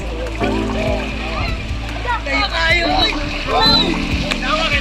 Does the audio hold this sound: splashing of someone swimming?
yes